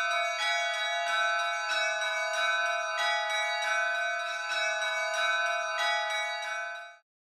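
Orthodox church bells in Moldova are chimed by swinging only the clapper against the bell. They ring as a steady run of bright, sustained strikes about every three-quarters of a second, then cut off.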